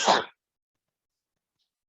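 A single short, sharp sneeze bursts out close by during a math class, then silence follows.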